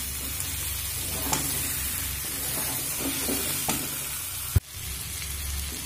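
Pre-fried potato, cauliflower and egg sizzle steadily in a hot pan over a medium flame, a constant frying hiss with occasional stirring scrapes and one sharp knock near the end.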